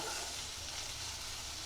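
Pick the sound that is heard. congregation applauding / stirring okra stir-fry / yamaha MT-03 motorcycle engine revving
stirring okra stir-fry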